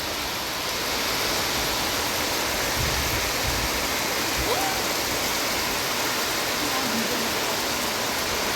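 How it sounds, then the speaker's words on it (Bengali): Very heavy rain pours down at Dawaipani in the Darjeeling hills, a dense, constant roar of falling water heard from indoors, steady and loud for the whole stretch with no clear voices. "মারাত্মক জোরে বৃষ্টি পড়ছে"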